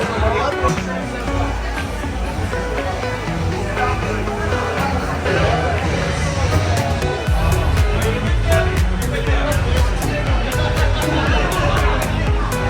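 Dense crowd chatter fills the Promenade of the cruise ship Utopia of the Seas at night, a steady loud babble of many overlapping voices with occasional louder exclamations close by.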